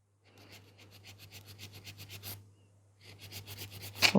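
A nail file rasps across a gel nail extension in quick, regular back-and-forth strokes, close and fairly soft. The filing pauses briefly, then resumes at the same brisk rhythm.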